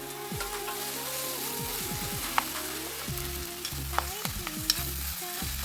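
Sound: stirring potato mixture in a pan for cutlets

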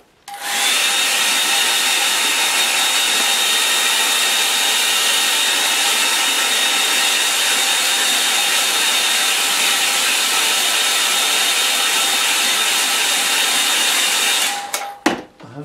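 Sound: hair dryer drying a watercolour painting

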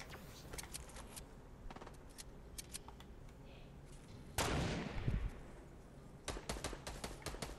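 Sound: gunfire in the video game Fortnite

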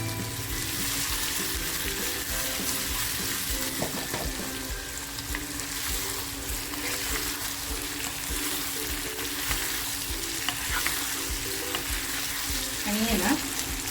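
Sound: potato katli frying in hot oil with spices

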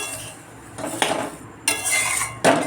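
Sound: stirring frying snacks in a pan

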